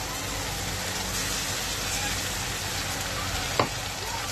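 Ground spice paste hits hot oil in a pan for a Bengali dal bori curry, giving a steady close frying sizzle throughout with one brief clatter near the end.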